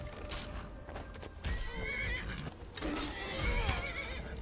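A horse in Skyrim neighs and whinnies repeatedly during combat, the calls rising over clattering hooves and game noise at close range.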